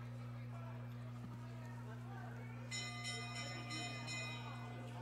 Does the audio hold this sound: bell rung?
yes